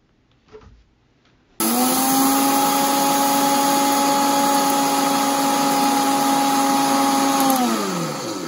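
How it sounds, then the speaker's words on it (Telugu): Mustard seeds ground in a mixie jar start after a brief quiet handling sound, then a loud, steady high-pitched motor whine runs for several seconds before winding down at the end. "ముందుగా ఆవాల్ని ఇలా మిక్సీ జార్లో వేసుకుని గ్రైండ్ చేసుకోవాలి"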